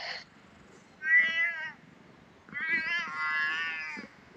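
A cat at a temple in Chae Hom, Lampang, gives a short chirp and then two drawn-out, whining meows, close and fairly clear over faint background noise.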